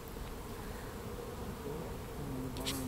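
Honeybees buzzing close by during a beehive inspection, a dense continuous drone with individual bees rising and falling in pitch as they fly past, no talk.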